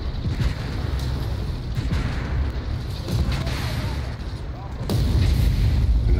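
Heavy booming tank cannon fire in Armored Warfare, deep low-end blasts and rumbling explosions over a steady engine drone, with a louder close shot near the end.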